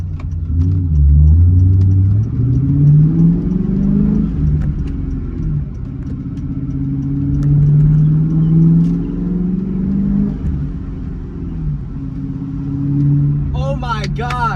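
2003 Ford Mustang GT V8 with new MSD ignition coils, engine running and revving in gentle swells over a steady rumbling idle, close by, with people talking over it.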